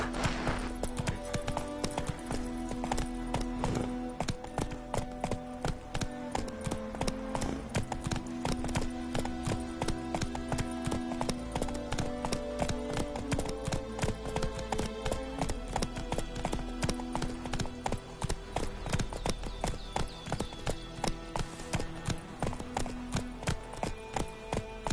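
Roach the horse gallops in The Witcher 3 video game, steady rhythmic clip-clop hoofbeats running continuously under a dense layer of game music and ambience.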